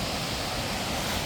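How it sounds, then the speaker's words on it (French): Powerful mountain waterfall near Venosc in snowy alpine terrain, a steady broadband roar of heavily falling water with no break, loud and close throughout. "On a trouvé une autre cascade."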